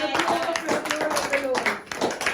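A church congregation claps and cheers with rapid, dense rhythmic applause mixed with voices and shouts, fairly close and lively.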